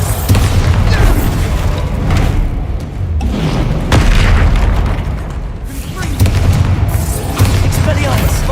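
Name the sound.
Bombarda spell explosion in a Harry Potter video game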